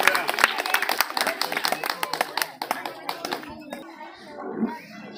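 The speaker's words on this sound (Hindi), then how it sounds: "तो उनके लिए जोरदार तालियां।" A school gathering gives hearty applause for a donor, crisp individual claps in a quick uneven rhythm that thin out and fade into scattered noise and faint voices.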